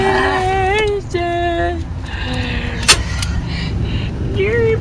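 A moving van's steady low road and engine rumble continues throughout, mostly masked by a person singing loudly nearby inside.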